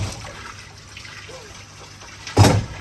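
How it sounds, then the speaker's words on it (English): Leftover water is tipped out of the base of an aquarium disc filter on a large planted native aquascape, a brief loud splash and gush near the end after a quiet trickle. "we can just tip out the remaining water from the base."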